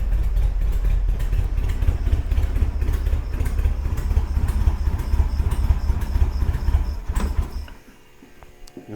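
A car engine on Weber IDF carburettors, with a carb still misbehaving on cylinder three, idles steadily and loudly up close for about seven seconds before the sound suddenly drops away.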